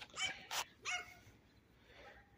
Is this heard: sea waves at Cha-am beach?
no